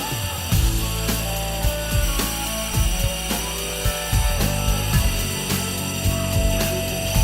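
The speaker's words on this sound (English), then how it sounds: "This will allow us to take a compass, make a circle, and we'll cut that out." A saw cuts a circular hole in a wooden valve wall panel for a plumbing fixture, giving steady repeated rasping strokes with a constant mechanical hum, close and loud throughout.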